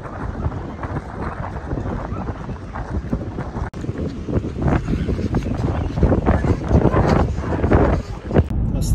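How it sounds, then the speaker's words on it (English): Strong wind gusts buffet the microphone at Fort Niagara, making a loud, rumbling roar that surges and swells continuously, with a voice partly heard under the noise. "Wind here is so bad today"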